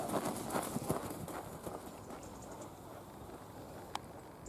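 A horse's hooves clip-clopping on an arena surface during a riding lesson, a quick run of fairly close footfalls at first that fade toward the back, with faint background sounds and a brief sharp click near the end.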